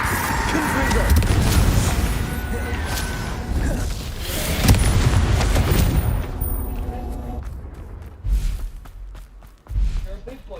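Confringo fire spells in Hogwarts Legacy burst in a loud, churning stretch of explosive blasts and impacts. Two sharper, isolated booms follow near the end, with some voices mixed in.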